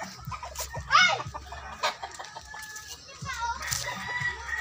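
Several hens cluck in short bursts nearby while a rooster crows loudly partway through, with more clucking and farmyard bustle around it.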